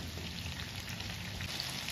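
Deep oil frying chicken pakora gives a brief burst of even, close hissing and soft crackle.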